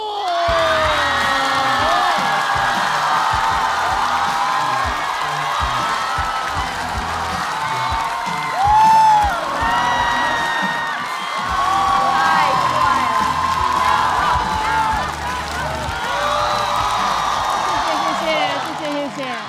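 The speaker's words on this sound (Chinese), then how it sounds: "让我们掌声有请" A stand-up comedy audience cheers and applauds as a comedian comes on, a loud, sustained roar of whoops and shouting voices with clapping mixed in.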